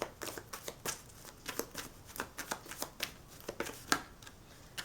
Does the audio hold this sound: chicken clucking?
no